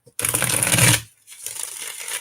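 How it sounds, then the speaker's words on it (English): A deck of cards is riffled in a quick burst, a brief pause, then a softer second stretch of shuffling. "Barb, one more shuffle"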